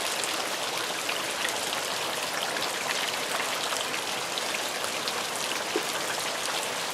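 Rain falls outdoors on a rainy day as a steady, even hiss of drops, with no breaks and no talking throughout.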